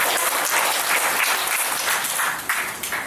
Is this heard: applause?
yes